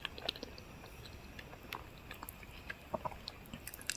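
Someone chews crunchy cooked wild vegetables, odielo and apoth, in a village, giving soft, irregular crunches and clicks close to the mic over a quiet background hiss, with no talking.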